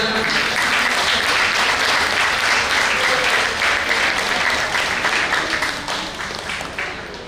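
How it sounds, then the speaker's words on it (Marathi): Loud, sustained applause from a crowd at a birthday event fills the whole stretch, gradually thinning out toward the end. "जोरदार टाळ्या हो द्या"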